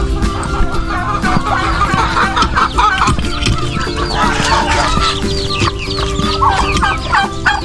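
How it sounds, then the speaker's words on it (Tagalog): Laying hens and turkeys crowd a farmyard with continuous overlapping clucks, squawks and gobbling, loud and close, with a rooster-like call mixed into the busy poultry chatter. "Dapat po ito mayroong nangitlog na manok, mayroon din pong pabo."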